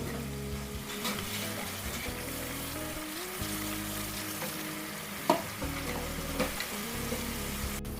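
Onion and garlic masala frying in a pot until light brown, a constant crackling sizzle with occasional sharp pops and stirring scrapes.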